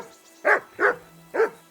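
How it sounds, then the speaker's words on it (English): A dog in the medieval video game Kingdom Come: Deliverance 2 gives three sharp, loud, close barks in an uneven rhythm, heard alone without speech. "That barking was a pain in the ass."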